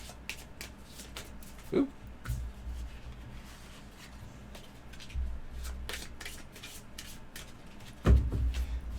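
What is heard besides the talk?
shuffling CoraQuest board game tiles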